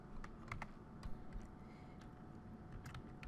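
Typing on a computer keyboard, soft irregular key clicks tapping in quick uneven bursts, faint and close against a low background hum.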